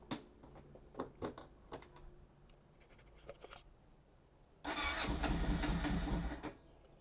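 A Kawasaki Prairie 700 ATV cranks with a few sharp clicks and short bursts, then its engine catches and roars loudly and steadily for about two seconds before cutting back, close by with no talk.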